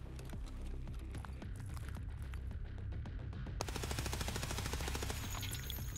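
Rapid sustained gunfire in the video game Escape from Tarkov, dense automatic bursts that intensify into a heavier, brighter volley in the final seconds, loud and continuous with no talk over it.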